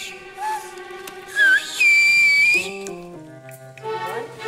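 A child whistles a few short wavering notes in a whistled language at a talent show audition, then a longer sustained tone, with quieter tonal sounds and a few clicks around it.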